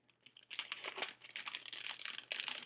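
A plastic shaker bag being folded for cardmaking, giving close, faint crinkling and crackling that comes in quick bursts throughout, with no talk.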